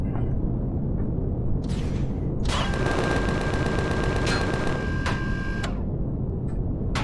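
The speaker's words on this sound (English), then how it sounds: "Who the heck's firing from?" Gunfire in the space survival game Empyrion Galactic Survival crackles as rapid bursts of repeated shots, a long rattling volley in the middle flanked by shorter bursts, loud over a steady rumbling background.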